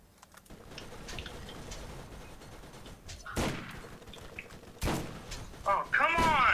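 Turret gunfire in the video game Borderlands, a sustained rattle of shots under a player's voice, with several louder blasts and bursts standing out toward the end.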